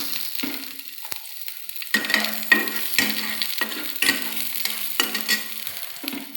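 Chopped garlic hits hot oil and sizzles in a steady broadband frying hiss, with repeated bursts and stirring scrapes roughly every second, close and moderately loud, no voices.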